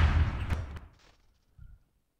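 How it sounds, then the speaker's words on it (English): A cartoon explosion in a parody animation of a FNAF book: a booming blast with a sharp crack that quickly fades into a rumbling tail, followed by one faint thud, and no talking. "Hey, that explosion wasn't that bad."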